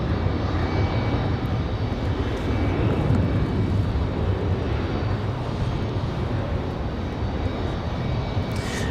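Airliner in Boston Celtics livery at Raleigh-Durham airport, a heavy, steady engine roar that stays loud and constant, no voices heard.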